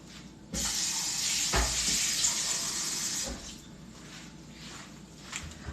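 Liquid pours into a cup in one steady splashing stream for about three seconds, close and clear, then tapers to a faint trickle and drips in a quiet room.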